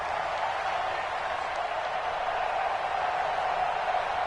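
Arrowhead Stadium crowd in a football video game, a dense, steady roar of cheering and applause sustained throughout at an even level.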